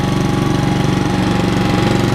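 A Honda commercial lawn mower engine runs close up with a rapid, even, loud chugging pulse and no voices.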